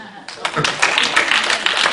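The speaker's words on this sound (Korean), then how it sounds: "박수." Applause from a church congregation, a dense burst of hand clapping that builds and carries on over a couple of seconds, fairly loud and close.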